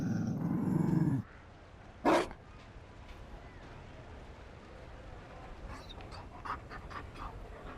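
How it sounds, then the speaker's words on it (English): A Mabari war dog in the video game Dragon Age: Inquisition pants and growls, loudest in a short opening burst, then stays low and faint under a quiet game background with a few soft clicks. "You found a dog?"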